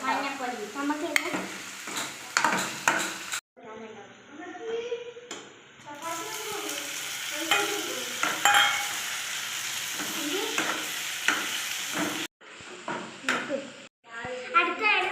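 Tomatoes and spices fry and are stirred in a pan, a steady sizzle with scraping stirs running under frequent talk, cutting out briefly between bursts.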